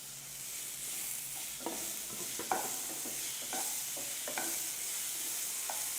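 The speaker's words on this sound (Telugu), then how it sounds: "ఇలా ఫ్రై అయ్యేలా కొద్దిసేపు ఇలా కలుపుతూ ఉండాలి." Cauliflower is stirred and fried in a pan, with a soft steady sizzle broken by repeated scraping and clinking strokes of a spatula, close by and fairly quiet, with no talking.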